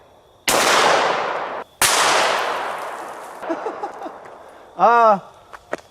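Two loud, close 9mm pistol shots firing 147 grain +P+ full metal jacket rounds at a stone ball boom out with long decaying echoes, followed by clanking and a brief ringing metallic ping.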